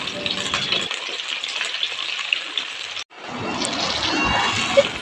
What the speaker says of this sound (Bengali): এরপর কিছু পেঁয়াজ কুচি দিয়ে ভালোভাবে নাড়তে থাকবো। পেঁয়াজ যতক্ষণ না নরম হয়ে আসে ততক্ষণ ভাজতে থাকবো।